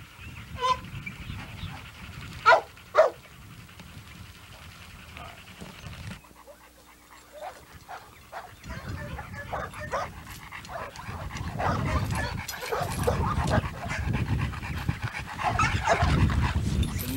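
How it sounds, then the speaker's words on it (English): A dog pants steadily up close, with a couple of sharp yips early on and rustling movement throughout. "Another one of our stud dogs, Sky Blue."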